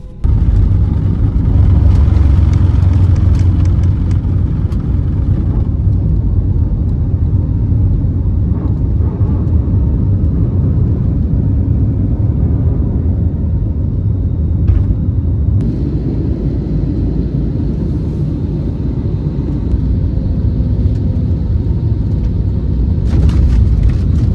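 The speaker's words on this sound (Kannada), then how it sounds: "ಟೇಕ್ ಆಫ್ ಆಗೋದನ್ನ ತೋರಿಸ್ತೀನಿ" A loud, steady jet engine roar rumbles throughout, heard from inside an airliner taxiing and taking off, with the pitch and intensity shifting slightly as it moves along.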